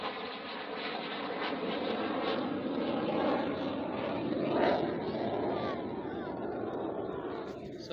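A large military cargo plane flies over at an air show on Chennai's Marina beach, a steady, broad engine roar that swells slightly midway, heard from a distance with faint crowd noise underneath.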